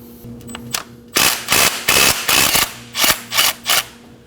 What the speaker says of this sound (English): Using a 12mm socket and a long extension, we're gonna go ahead and remove this bolt.